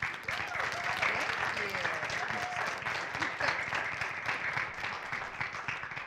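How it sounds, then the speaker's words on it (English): A board of education meeting audience gives a quick round of applause, steady dense clapping for several seconds with faint voices and murmurs underneath. "can we give her a quick round of applause?"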